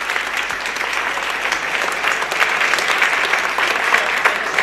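A television studio audience applauds steadily and densely, a close, even wash of clapping hands that holds at the same level throughout with no voices on top.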